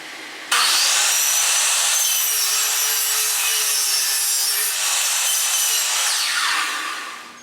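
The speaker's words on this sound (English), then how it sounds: "I focused on the long pieces of the frame by cutting miters on both ends" Power saw making miter cuts across the ends of long wooden boards for a vegetable-garden planter box frame, one loud sustained cut that starts abruptly and fades as the blade spins down, no talking.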